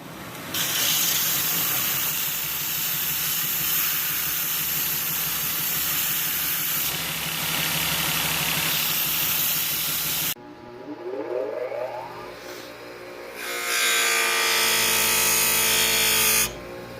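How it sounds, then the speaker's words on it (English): Edges of a leather knife sheath are sanded with a power sander, a loud continuous whirring hiss that holds steady, cuts off briefly, then revs back up with shifting pitch. "now all we gotta do is sand on our edges, get it nice and clean"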